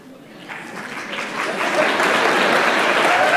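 An audience at a lecture event breaks into applause, the clapping swelling from a light start into a full, loud, sustained round within a few seconds.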